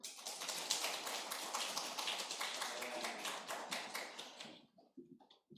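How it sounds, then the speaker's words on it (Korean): A church congregation at a Sunday service claps their hands in a quick, rhythmic burst that carries for about four seconds before fading out, with a few voices heard at the end. "손, 박수 한번 박수."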